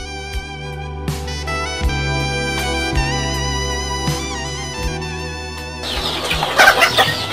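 Arab chickens on a poultry farm raised for fattening, clucking steadily together alongside a loud, continuous mechanical hum with regular rhythmic thumps, becoming busier and noisier toward the end.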